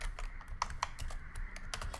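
Rapid clicking keystrokes on a computer keyboard, a quick run of close, crisp taps in an uneven typing rhythm, heard alone at low volume.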